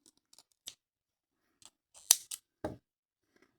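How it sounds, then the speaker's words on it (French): Scissors snip through crochet yarn while finishing a hat for a Christmas gnome, giving a few quiet, separate clicks and one sharper, brighter snip midway, close up with no talk. "je vais couper mon fil."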